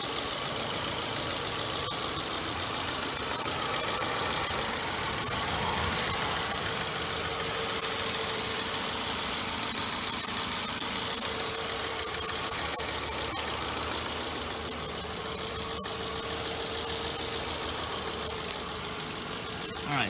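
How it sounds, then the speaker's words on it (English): A 2001 Nissan Sentra four-cylinder engine idles steadily and close up, a continuous even hum with faint vibration and no talking over it. "let's check out the motor. 4-cylinder motor."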